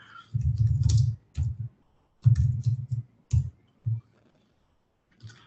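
Keystrokes on a computer keyboard, typed in several short rapid bursts separated by brief pauses, close and fairly loud with no talking.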